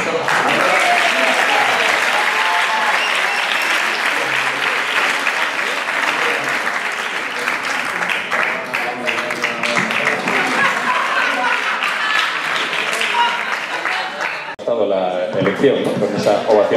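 A festival audience at the presentation of the Battle of Flowers in Laredo breaks into a loud, sustained ovation, dense clapping and cheering filling the hall before it briefly dips and swells again.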